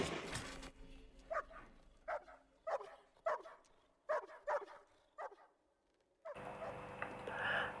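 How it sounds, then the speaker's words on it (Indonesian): A dog barks about ten times in a quick, uneven series, moderately close. A burst of broadband noise follows at the end. "Sampai ia tersadar saat Sam menggonggong untuk membangunkannya."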